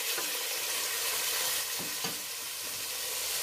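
Chicken breast frying in hot oil in a pan after onions, a steady loud close sizzle with a few brief stirring knocks and no voices.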